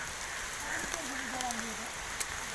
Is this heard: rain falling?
yes